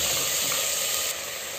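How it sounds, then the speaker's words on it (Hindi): Potatoes and green peas fry in spices in a pot for tahri, producing a loud, dense, unbroken sizzle and hiss close up throughout. "आलू और मटर को भी मैंने बहुत अच्छे से देखिए भून लिया है"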